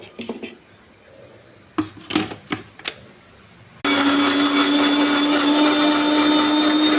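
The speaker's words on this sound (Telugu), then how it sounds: "ఈ చల్లారిన టమాటా అంతా మిక్సీ జార్లో వేసేయాలండి. మిక్సీ చేయాలి." A mixer grinder blends fried tomatoes for chutney. A few sharp clatters of the jar come first, then the motor roars loudly and continuously for the last few seconds.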